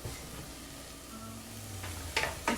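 Kimchi soup with broth cooking in a pot, giving a steady low simmering sizzle throughout with a couple of brief sharp clinks near the end.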